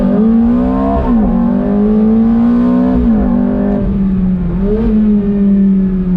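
Ferrari F430 with a naturally aspirated V8 accelerating hard, a loud, close engine note rising through repeated climbs in pitch, steady and continuous with no talk.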